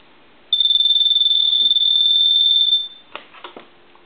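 Ringing from a repaired gas pump telephone bearing the Gulf logo: one loud, trilling electronic burst of a little over two seconds, then a few sharp handling clicks and knocks nearby.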